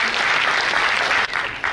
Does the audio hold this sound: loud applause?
yes